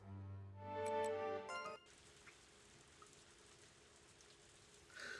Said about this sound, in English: silent as the rain drenches her.